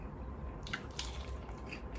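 Quiet crunching bites into crispy fried chicken, a few crisp crackles close up, then soft chewing, with no talking.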